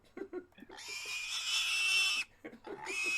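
A person imitates a pig, letting out two long, loud, squealing nasal oinks, each preceded by short grunting snorts and breathy sounds up close.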